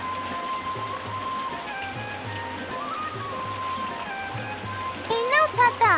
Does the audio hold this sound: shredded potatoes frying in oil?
no